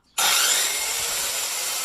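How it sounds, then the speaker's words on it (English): A power saw bites into wood with an abrupt start, then a loud, continuous rasping cut that holds steady for nearly two seconds, close and alone. "You work that saw. I'm always working the saw"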